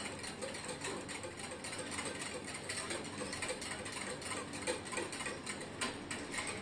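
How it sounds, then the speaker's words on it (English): Milk mixture being whisked in a bowl, a steady fast rattling and clicking of the whisk that runs unbroken at moderate loudness with no talk. "Now we're going to whisk it."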